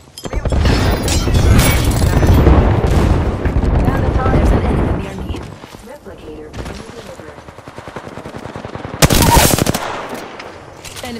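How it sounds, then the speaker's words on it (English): Heavy rumbling airstrike explosions and dense rapid gunfire in a battle royale shooter game, loud and sustained at first, then thinning to scattered shots and a sharp burst near the end, with a player talking over it. "Airstrike"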